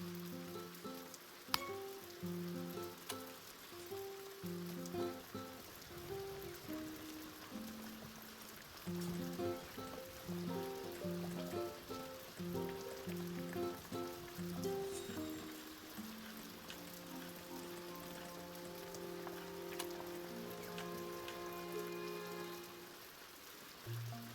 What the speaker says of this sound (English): it looks like everyone's kind of getting rained on